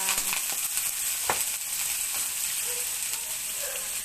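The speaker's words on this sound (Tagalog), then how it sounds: "Igisa natin muna yung patay balunan hanggang sa mawala yung lansa niya" Chicken gizzards sauté in a hot pan with a steady, bright sizzle throughout, broken by an occasional stir or clink of a utensil.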